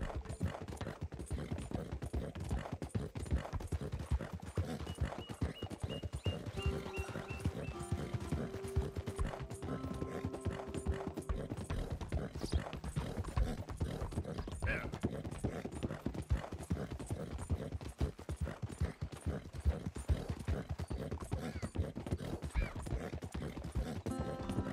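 Horse hooves clip-clop at a steady galloping rhythm across the Red Dead Redemption 2 game world, with occasional whinnies and faint mechanical clicks over a dense, continuous background.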